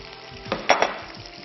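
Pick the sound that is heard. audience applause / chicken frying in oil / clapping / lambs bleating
chicken frying in oil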